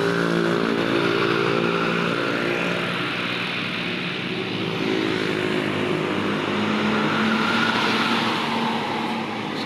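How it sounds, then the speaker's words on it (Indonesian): Steady loud road traffic with heavy bus engines rumbling by continuously at Cikokol, Tangerang, a dense roar of passing vehicles without pause, the day before Eid al-Fitr. "Kita lihat-lihat dulu bus apa aja yang lewat dari Cikokol Tangerang hari ini."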